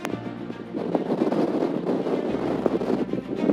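Strong wind on a mountain pass on the Toiyabe Crest buffets the microphone in a continuous roaring rush with low thumps, loud and unbroken throughout, no voices.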